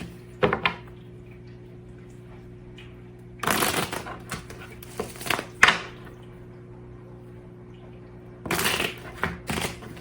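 Tarot cards are shuffled in several quick riffling bursts separated by quiet pauses, close by with a steady low hum underneath.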